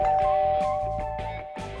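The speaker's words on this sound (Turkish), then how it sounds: "Bu kapı zili mi?" A doorbell chimes repeatedly in a steady ding-dong pattern, clear and fairly loud, with sustained ringing tones between strikes.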